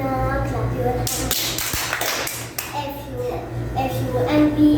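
Grade-school children clap along to a chanted action song in a classroom, a steady run of bright claps mixed with young voices singing over a droning backing tune.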